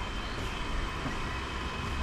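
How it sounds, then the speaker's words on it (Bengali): Passenger train leaving Dupuria junction, heard from inside as a steady, close rumble of wheels and carriage noise with no clear breaks. "দুপুরিয়া জংশন থেকে ট্রেন ছাড়লো অবশেষে"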